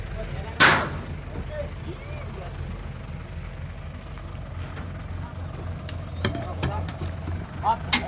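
A truck engine idles at a low, steady rumble during vehicle unloading, with people talking over it and a few sharp knocks and clanks.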